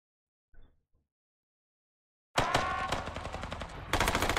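Bursts of machine gun fire in an SCP horror setting at a research and testing facility, loud and dense automatic rattling after a brief faint noise and a pause of near silence.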